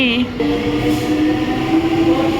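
Bardhaman local train in motion near Hooghly, a loud, steady rumbling roar with a sustained tonal whine running through it, heard from close by without pause.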